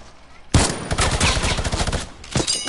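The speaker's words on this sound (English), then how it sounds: "Whoa, who is shooting at me" A sudden burst of rapid automatic gunfire in a video game rattles on for about two seconds, loud and dense, following a quiet moment.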